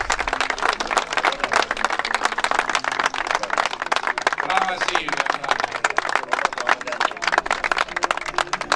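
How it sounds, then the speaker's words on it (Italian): Crowd applause at the Silvio Longobucco memorial event, dense steady clapping from many people throughout, with a voice speaking over it. "Un grosso applauso per Silvia."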